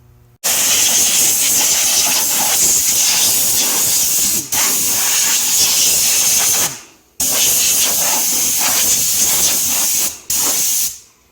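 Brake cleaner sprays onto new brake rotors on a 2007 Pontiac Vibe in sharp, loud aerosol hisses, two long bursts broken by short pauses and a final brief spurt.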